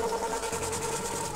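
A motorcycle engine idling in a modded GTA game, a steady low rumble with a constant hum throughout, fairly quiet and with no talk over it.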